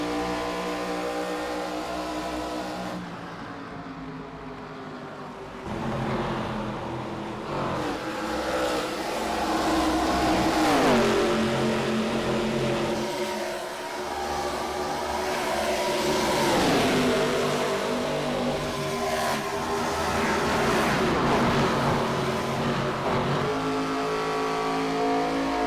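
Race cars circle the Kentucky track in an iRacing ARCA series event, their engines droning and revving in a tight pack, with pitch rising and falling as cars pass. The sound is fairly soft and steady, with no voices over it.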